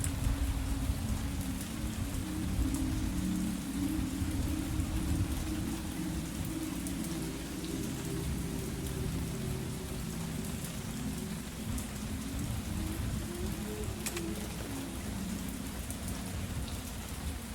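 Heavy rain pours steadily in a video game, a loud, dense wash of rainfall that holds constant from start to finish with no other sounds.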